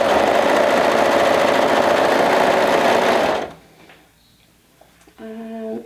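A sewing machine stitches a sleeve seam with a steady, loud, close whir for about three seconds, then stops, leaving faint handling noises and a brief tonal sound.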